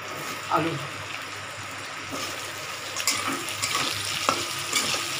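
Potatoes frying in a pan with garlic, giving a steady broadband sizzle close by, broken by the scrape and clatter of occasional stirring.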